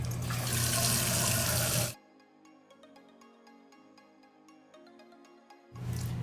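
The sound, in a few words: tap water running while washing the face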